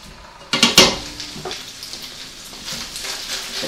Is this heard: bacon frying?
yes